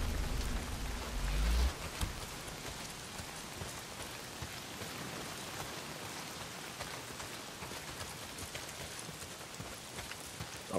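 Heavy rain pours steadily in the video game Days Gone, a dense, constant wash of downpour heard alone and close throughout.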